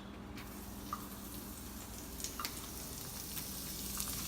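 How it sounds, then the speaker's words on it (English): Shallots sweating in a little fat in a pan, a soft steady sizzle with faint crackles and occasional light ticks, quiet and continuous with no talking. "I'm going to sweat my shallots first"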